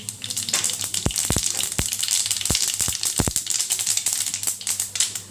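Steady crackling sizzle of cumin seeds and white sesame seeds frying in hot oil, with a few sharp pops and clicks scattered through, close and fairly loud, no talking.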